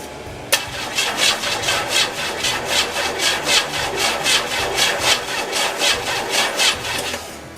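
A starter cranks the engine of a 1986 Oldsmobile Regency that will not start, a loud close rhythmic churning with evenly spaced pulses that keeps going without catching.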